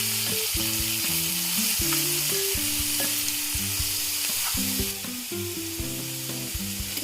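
Bitter gourd pieces fry and sizzle in a pan, a steady loud crackle with stirring clatter and scraping throughout, no voices.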